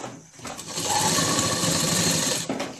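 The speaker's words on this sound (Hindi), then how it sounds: "पहले थोड़ा रफ करके फिर बीच में गैप छोड़ के फिर इस तरह सिलाई लेंगे" A sewing machine stitches the waistband casing of palazzo pants in one fast, continuous run of rapid needle chatter, close and loud, starting and stopping within a couple of seconds, with no talking.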